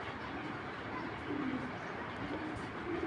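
Racing pigeons coo in low, soft bursts against steady background noise, with a few warbling calls rising and falling close by.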